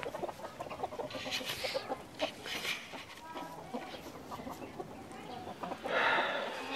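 Hybrid hens and roosters cluck and squawk nearby in short, uneven bursts, with a louder flurry of clucking near the end and faint background noise throughout.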